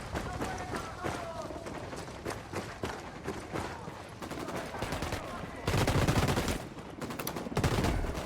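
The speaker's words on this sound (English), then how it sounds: "Opening fire on these fuckers." Bursts of automatic and single-shot gunfire from the Spec Ops video game, a dense, continuous clatter of shots with louder volleys near the end, while a voice talks over the firing.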